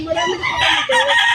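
A rooster crowing loudly and close at the Malabon pet market, one drawn-out crow rising and holding, with faint clucking around it.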